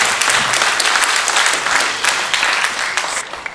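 An audience at a Thunder Bay Rainy River candidates forum applauds, with dense, steady clapping filling the room at a fairly loud level and no talk over it.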